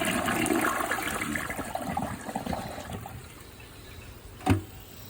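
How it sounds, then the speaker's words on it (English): A brand-new 2023 Project Source Pro toilet flushes a dish towel, a loud rushing swirl of water that fades into trickling refill, followed by a short knock near the end. "Alright, here goes the dish towel."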